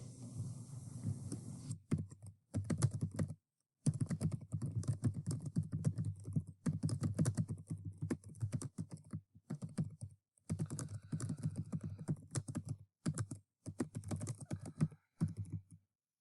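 Quiet, rapid typing on a computer keyboard in bursts of key clicks separated by brief pauses, with no voices.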